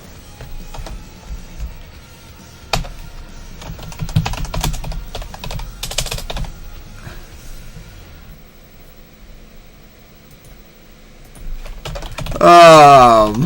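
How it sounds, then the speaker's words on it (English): Computer keyboard typing in irregular bursts of close, crisp key clicks with pauses between them, ending in a brief loud vocal sound. "so I can start typing up the times"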